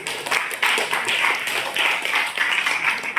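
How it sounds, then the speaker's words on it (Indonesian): A classroom group claps in a short, uneven burst of hand claps, fairly close and moderately loud, rising and dipping in waves. "Tepuk tangan dulu untuk Nancy."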